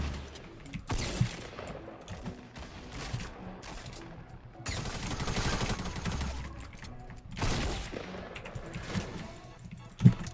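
Gunfire from the Fortnite video game at Tilted Towers, bursts of rapid automatic shots and scattered single shots over about ten seconds with a sharp loud crack near the end, and a player's voice talking at times underneath.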